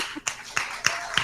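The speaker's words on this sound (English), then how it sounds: "they're clapping" Audience members clap in a recording, making a few sharp, separate claps spaced about a third of a second apart over roughly a second.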